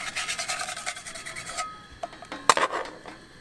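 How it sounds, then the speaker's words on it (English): A spoon scrapes and rubs around a hot pan as food is stirred, a continuous gritty scraping that thins out and ends in a few sharper knocks against the pan, with no voices. "I'm gonna stir this around a little bit."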